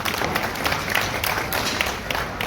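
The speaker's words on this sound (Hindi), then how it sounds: "सबसे पहले हम सब आपके लिए ताली बजाएंगे" Audience clapping for election supervisors and BLOs at an honour ceremony in Banoda Balaji, Begun, a steady, dense round of applause from a crowd filling the whole stretch, with faint voices mixed in.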